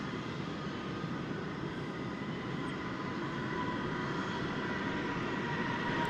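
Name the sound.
Airbus A321 airliner at DFW Airport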